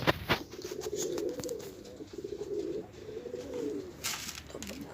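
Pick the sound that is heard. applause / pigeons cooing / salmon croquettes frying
pigeons cooing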